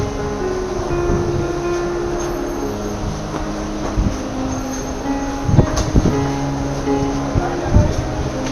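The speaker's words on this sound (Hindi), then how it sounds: "ये एक DEMU ट्रेन है" A DEMU diesel local train rumbles at a station with a steady low engine drone, clanks and knocks of the carriages, while someone talks over it.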